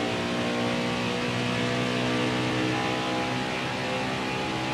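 Racing truck engine in NASCAR Heat 5, a steady droning hum held at high revs, continuous and fairly loud with no talking over it.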